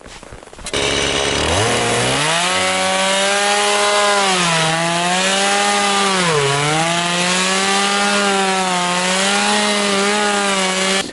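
A chainsaw with a small bar roars loudly and steadily, its engine pitch dipping and rising as it bites through wood, running continuously with no talking.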